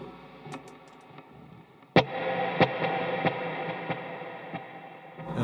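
Electric guitar played through a pedal board delay with two simultaneous delays, sustained chords ringing out with a sharp attack near two seconds and repeated plucked hits echoing in a galloping pattern, close and steady, no talk.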